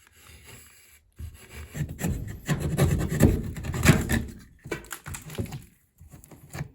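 Close scraping and rasping of a sharp knife beveling the edges of a hole in drywall, in uneven bursts, with short pauses between strokes and no talking.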